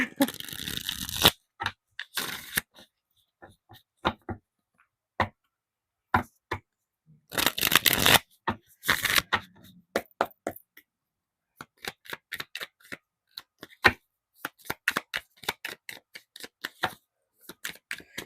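Tarot cards being shuffled, heard as scattered bursts of crisp card riffles and flicks with quiet gaps between them, close up and alone.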